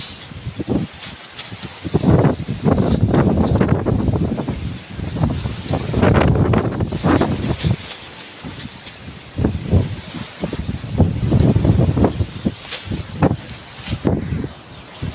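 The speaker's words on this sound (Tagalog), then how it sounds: "Lakas ng ihip ng hangin. Grabe." Strong southwest monsoon wind from Typhoon Carina roaring and gusting in surges, with coconut palm leaves rustling and wind buffeting against the microphone throughout.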